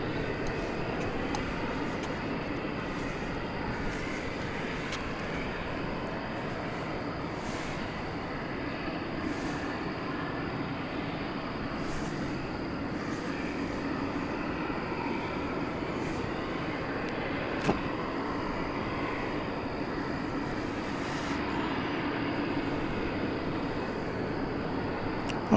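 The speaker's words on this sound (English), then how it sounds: "It's an Airbus A321." An American Airlines Airbus A321 arriving from Seattle lands at DFW Airport at night, heard as a steady, broadband jet roar that holds for the whole stretch, fairly distant and even in level.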